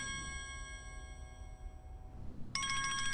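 An electronic phone ringtone chimes in steady tones, dips briefly, then resumes louder and brighter near the end; no one speaks.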